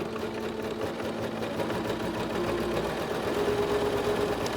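Singer SewMate 5400 sewing machine top-stitching a zipper into a skirt, running a continuous, moderately loud mechanical whir with a fast steady rhythm throughout, no talking.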